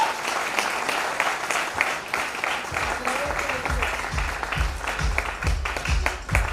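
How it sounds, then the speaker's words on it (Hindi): Hall audience at a networking event in Lucknow giving loud, sustained applause for a speaker, many hands clapping in a thick continuous roar, with a voice briefly audible over it partway through. "जोरदार तालियां अमित सर के लिए।"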